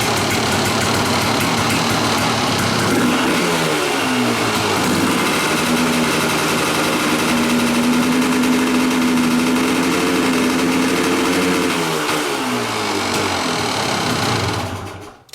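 A Kawasaki KDX dirt bike engine in poor running condition, over-oiled and over-fueled, idles with a buzzy, uneven note and rises into a steadier raspy drone before dropping back and cutting off.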